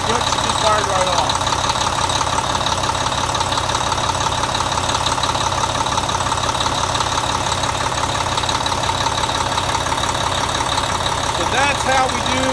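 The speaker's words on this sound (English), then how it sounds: "Oil pressure came up, so everything looks good, she just fired right off." A Volvo D-13 truck diesel engine idles steadily just after an injector swap, a continuous close, loud rumble with a knocking texture that stays even throughout with no talk over it.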